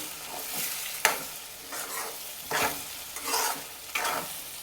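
Five beaten eggs being stirred in a hot pan for dhaba-style anda bhurji, with a spatula scraping in a slow rhythm of about five or six strokes over a low continuous sizzle.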